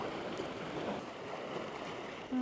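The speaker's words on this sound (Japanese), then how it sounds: "すごい大波が来た。 全然波収まらないですね" Large ocean waves surge and wash continuously against the shore, a broad steady roar of churning surf with no voices.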